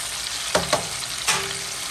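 Seasoned chicken breast tenders deep fry in hot oil with a steady, close sizzle and a few sharp crackles and pops, with no talking.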